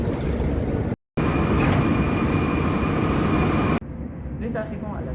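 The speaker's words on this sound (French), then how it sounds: "Alors, montez à bord," A Prague metro train pulls away from a station, a loud, steady rumbling roar with a brief dropout, then a quieter hum as a voice speaks over it.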